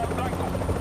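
A Hind attack helicopter flies in within the Black Ops video game, its rotor drone steady and moderately loud across the short moment, with speech also present.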